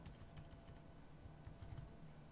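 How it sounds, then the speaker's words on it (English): Typing a file name on a computer keyboard, a quick run of soft, close key taps in uneven bursts, faint and alone with no talk. "we can start typing the name of that file name out"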